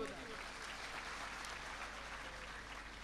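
An audience claps steadily at a religious Bhagavat Katha discourse, a dense, even patter of many hands held at moderate volume throughout.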